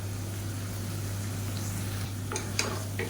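Potato and soya chunks sauté in a pan with ground coconut paste, a steady soft sizzle with a few stirring scrapes toward the end.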